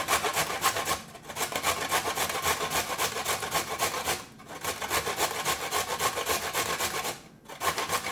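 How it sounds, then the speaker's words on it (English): A carrot being shredded by hand on a grater: fast, steady rasping strokes in long continuous runs, broken by two brief pauses, loud and close with no talk. "I also need to shred up one carrot."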